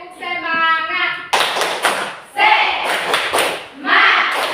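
A classroom of students doing a clapping chant during a mathematics lesson on exponents, with bursts of claps alternating with children's voices chanting together and a teacher's voice at the start.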